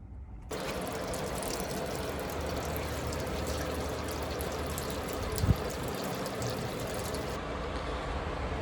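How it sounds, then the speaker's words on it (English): Water from a hose streams steadily into a rusty swamp cooler's pan after a Flex Seal repair, a continuous broadband rush with a brief splashy knock midway, no voices. "we're gonna go ahead and fill it up with water and see if we got any leaks"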